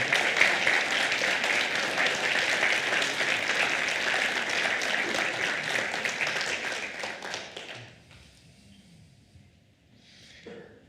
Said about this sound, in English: we would like to acknowledge you with a round of applause